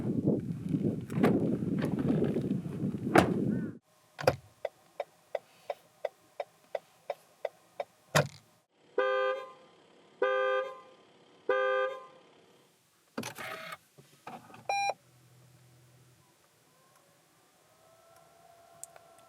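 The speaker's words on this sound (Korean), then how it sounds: "RX450HL이 들려주는 감성 소리를 들어보겠습니다" A 2021 Lexus RX450hL gives a burst of broadband noise, then a steady run of about ten crisp ticks, then several bright chime-like tones in short groups, before trailing off into near silence.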